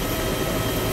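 Helicopter in the war game ARMA 2, a steady loud rotor and engine drone filling the short moment with no pauses or voices.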